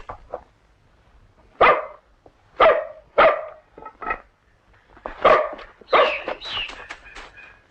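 A dog named Tumang barks in a series of sharp, separate woofs, several single barks spaced apart, then a quicker cluster with higher yips near the end, close and clear in a quiet outdoor setting.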